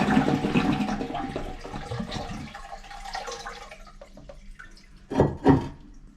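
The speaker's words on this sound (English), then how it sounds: "Flush the toilet." A household toilet flushes during bathroom floor tiling work: water rushes and gurgles, then trickles and drips as the flow eases, with a couple of louder splashes near the end.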